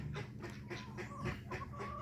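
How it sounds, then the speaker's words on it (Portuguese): A rooster in a backyard henhouse clucks close by in a run of short, rhythmic clucks, several calls in quick succession over light background noise. "o galo passando aqui do meu lado, aqui."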